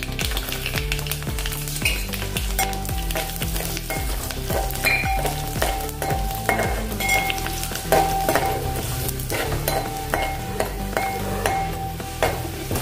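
Chopped garlic sizzles steadily in hot oil, with occasional utensil scrapes and light clinks of a pan.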